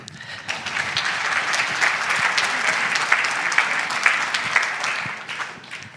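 Sustained applause from a large gala audience, steady dense clapping lasting throughout at a fairly loud level.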